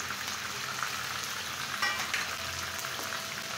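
Chicken frying in oil for morog polao, a steady broadband sizzle with soft crackles and a few brief pops, close and even throughout, no voices.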